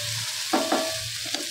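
Peas being mixed with salt in a pan for samosa chaat, a low steady hiss with two short scraping stirs in the middle and a light clink near the end.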